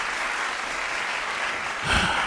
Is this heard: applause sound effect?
yes